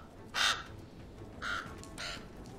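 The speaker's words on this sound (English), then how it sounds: "Crows are all liars." Three harsh crow caws ring out with short gaps between them, each a loud rasping call over faint background noise, with no talking.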